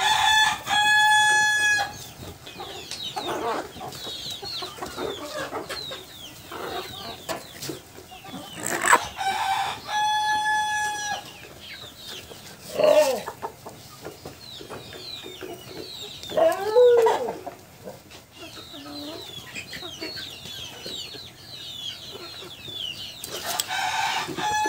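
Roosters crow and chickens cluck nearby during beak trimming, with several drawn-out crows spaced through the stretch and scattered clucks and squawks between them.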